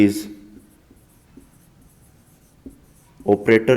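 Chalk or marker taps and scratches on a lecture board in short faint strokes during a physics class, followed by a voice speaking.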